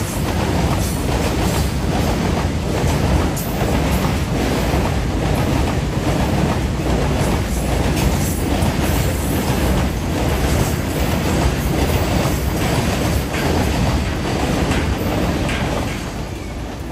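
A train runs beneath a railway overbridge under construction at Mahe on the Thalassery–Mahe bypass, with welding halted overhead; a loud, steady rumble and clatter of wagons rolls past continuously, with rhythmic wheel clicks and some squeal.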